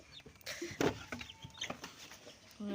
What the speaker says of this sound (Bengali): মুরগি ছেড়ে দিই।